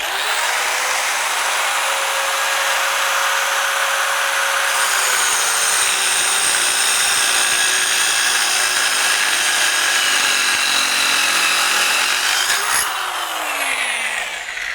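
A small, cheap DIY flooring saw starts up and cuts oak along an edge guide. A rising motor whine becomes a louder, rough cutting roar for several seconds, then winds down at the finish, heard up close.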